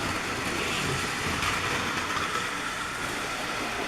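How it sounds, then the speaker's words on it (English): Toy model train Oliver, a Great Western engine, running along a layout pulling a passenger train, a steady continuous whirring rumble from start to end at moderate loudness. "We have Oliver going down the train with his passenger train and with Toad behind."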